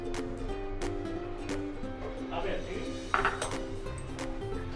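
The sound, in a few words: lid removed from pot of cooked mutton curry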